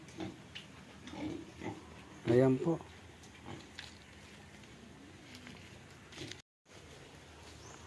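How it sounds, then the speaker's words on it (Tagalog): Pigs on a provincial farm give a few scattered grunts and one louder squeal-like burst near the middle, heard under someone talking in Filipino with outdoor background noise. "May mga alaga pala silang mga baboy."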